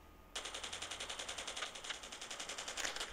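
An RPD light machine gun fires a sustained rapid automatic burst in Call of Duty Mobile, a steady rattling stream of closely spaced, evenly timed shots that starts abruptly after a brief quiet moment and stays up close.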